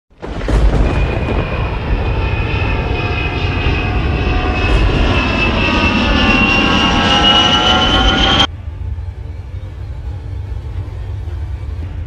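Northwest Orient airliner taking off, a loud, steady roar of engines with a rising whine that builds over several seconds, then cuts abruptly to a lower rumbling hum, no voices.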